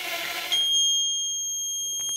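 Steady high-pitched electronic alarm tone from an MQ-3 alcohol detector vehicle ignition system, sounding continuously for about a second and a half, following a brief burst of noise, with a faint click near the end.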